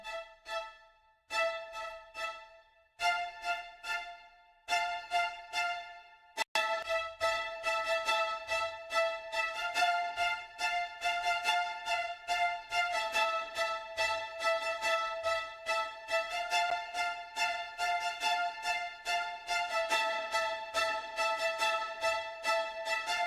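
Orchestral accents layered with a Spitfire sample library: sparse sustained chords with gaps open the passage, then a dense, steady run of bright repeated notes carries on at full level with no voices.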